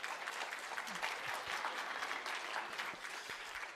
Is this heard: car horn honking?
no